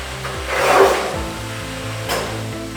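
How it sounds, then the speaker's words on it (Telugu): Scraping, grinding noise of a tool cutting ceramic wall tiles, steady and close, with a rasping swell early on and another brief scrape near the end. "టైల్స్ ని కట్ చేయడానికి తగిన పనిముట్లు ఉపయోగించి టైల్స్ ని జాగ్రత్తగా ఈ విధంగా కట్ చేయండి"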